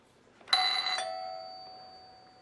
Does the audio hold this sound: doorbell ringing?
yes